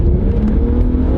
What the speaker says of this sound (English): We'll give it some gas.